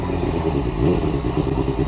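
Motorcycle riding on a road, its engine producing a steady low rumble with a slight rise in revs midway, close and continuous, with faint clatter and no talk.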